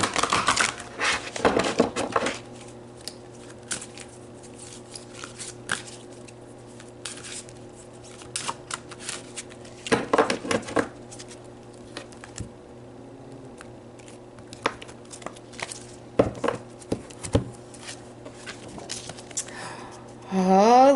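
A deck of oracle cards is shuffled by hand in bursts of crisp riffling and slapping, close by, with quiet gaps between the flurries and a low steady hum underneath.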